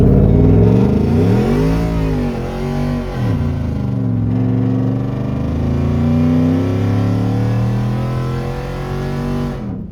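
Supercharged 2015 Ford F-150 with a 5.0 V8 revs hard while parked, loud and close, the engine pitch climbing and dropping through several rises like gear changes before it settles into a sustained high whine.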